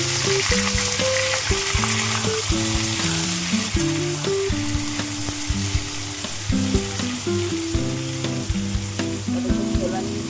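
Cut potato and pumpkin frying in hot mustard oil with black cumin and a bay leaf in a kadai, producing a loud continuous sizzle and crackle. A tonal melody runs underneath throughout.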